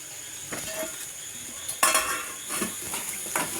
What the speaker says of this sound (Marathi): चांगला मिक्स करून घ्यायचं एकदम बारी अशी ग्रेव्ही तयार होऊ राहिली आता